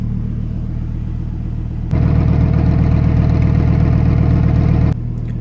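A Lamborghini Huracan Evo Spyder idles in Sport mode, its steady close rumble stepping up to a louder, higher idle for a few seconds before dropping back down.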